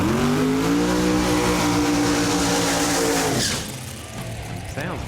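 A Chevy Nova drag car makes a loud pass, its engine revving hard with a rising, rasping tone for about three seconds before dropping away abruptly into fainter roar and crowd or track noise.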